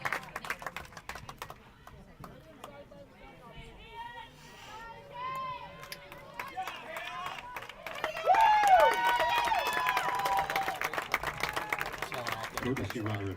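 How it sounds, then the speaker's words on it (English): At a girls' varsity high school softball game, the crowd in the stands cheers, shouts and applauds for several seconds, and the noise swells louder partway through while voices talk over it. "Lots of excitement from the crowd here as Linn-Mar is up by 1."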